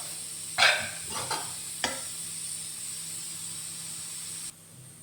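Crushed garlic and ginger fry in a pan, a steady low sizzle broken by a few sharp scraping stirs early on, then left to hiss quietly on its own.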